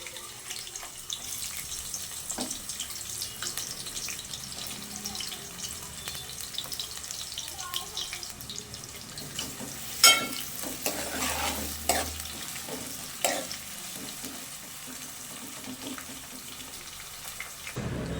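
Onion sizzles steadily in a hot pan as the base for chicken palak biryani, with a constant frying hiss, occasional stirring scrapes and a few louder clanks, close and without talk.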